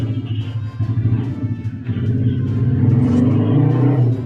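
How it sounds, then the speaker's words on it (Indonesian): Noisy motorbikes passing outside, a loud rumbling engine drone that swells and grows louder toward the end, with no voices over it. "banyak banget motor berisik dah"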